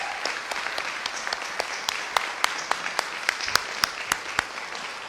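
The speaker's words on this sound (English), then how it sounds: "Can we give him another round of applause?" An audience applauds Governor JB Pritzker at an Illinois early childhood initiative launch, with steady mid-distance clapping sustained throughout and a few sharper individual claps standing out.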